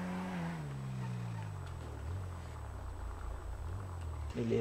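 A car driven and pulled over to park in a GTA game, its engine droning steadily with pitch falling as it slows, then a brief bump near the end; a voice talks over it.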